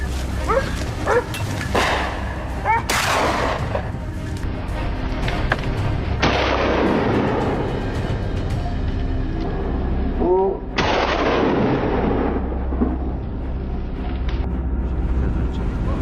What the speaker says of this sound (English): A sharp crack echoed as the shot hit its mark